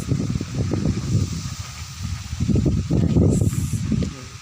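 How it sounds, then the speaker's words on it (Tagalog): Strong wind gusting and roaring against the microphone in uneven surges, loud and close throughout. "Yan ang lakas ng hangin"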